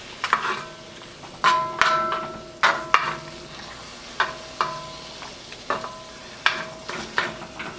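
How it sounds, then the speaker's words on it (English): Beef bulgogi sizzles in a hot pan as cooking tools strike and scrape it in a steady series of sharp, ringing clanks over a low frying hiss. "You bring the meat up on the pan, it'll cook it, and then you can put it back down into the liquid."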